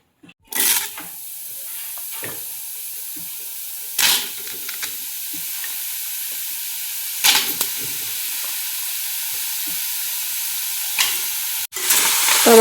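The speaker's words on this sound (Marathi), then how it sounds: "टोमॅटो पण कोरडाच भाजायचा आहे" Chopped green tomato dry-roasting in a pan without oil, a steady soft sizzle and hiss with occasional louder bursts as the pieces are stirred, close and alone.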